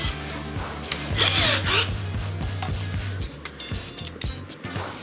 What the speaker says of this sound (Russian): И вот теперь смотри, я туда могу загнать саморез. Полноценный 50-й саморез.